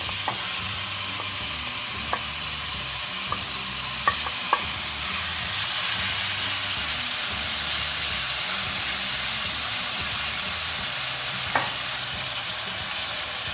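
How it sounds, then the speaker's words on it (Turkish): Continuous loud sizzling of meat frying in hot oil in a pot, a steady hiss with occasional small pops and clicks. "Kızmış olan tenceremizin içerisine ilk önce etlerimizi atıyoruz."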